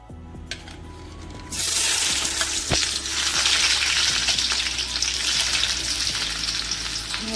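Chopped onions dropped into hot soybean oil in a wok burst into a loud, close, continuous sizzle after a quieter start, with a sharp clack as they land and steady frying noise throughout.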